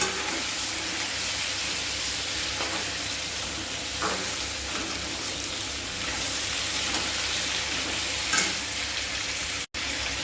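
Pointed gourd fries with turmeric in hot oil, a continuous close sizzling hiss with faint occasional stirring clicks.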